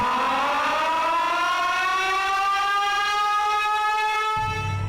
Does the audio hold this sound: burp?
no